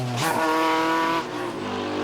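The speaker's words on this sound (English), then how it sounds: "up close and personal with the crowd is Jeffrey Dolan in the Talbot Sunbeam" A Talbot Sunbeam rally car on a stage of the 2007 Donegal International Rally, its engine revving up hard and close, then dropping back to a lower drone, alone with no talk.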